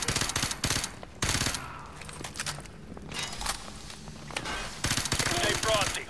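Bursts of automatic gunfire from the Call of Duty Modern Warfare 2 campaign, loud rattling volleys broken by brief pauses with shuffling movement and faint game voices in between.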